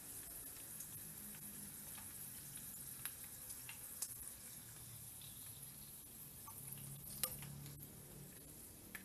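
Pork intestines frying in hot oil for chicharon bituka, a steady close sizzle with occasional small pops and clinks, no talk.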